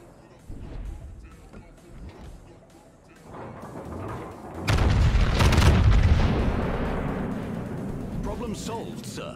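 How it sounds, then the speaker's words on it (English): Heavy naval guns on a warship firing at an enemy ship in a video game, a deep booming salvo that swells into a long rumbling roar, heard close and loud with a voice talking during the lead-up. "Concentrate fire on that enemy warship"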